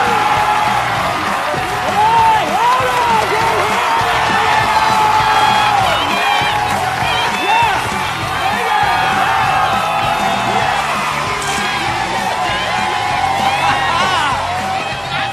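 A large crowd at a show in a film cheers, whoops and shouts continuously, loud and close, with many overlapping voices yelling over one another.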